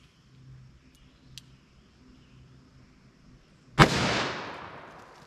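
A single loud .44 Magnum revolver shot cracks out after a few quiet seconds with faint clicks, followed by a long decaying echo.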